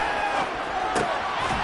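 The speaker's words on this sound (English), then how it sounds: "the crowd getting into it as we come up on a big 3rd down" A football stadium crowd swells into a broad, steady roar before a big third down, loud and enveloping with no single voice standing out.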